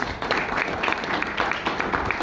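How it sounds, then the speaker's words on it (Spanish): An audience at a book presentation applauds the author, a steady mass of clapping from a roomful of people with a few sharper individual claps standing out, continuous for a couple of seconds. "Yo pienso que se merece un gran aplauso."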